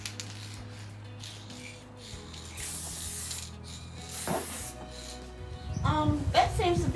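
Hissing bursts from a spray paint can fitted with a new cap, several short sprays separated by pauses, with outdoor background noise and louder rustling near the end.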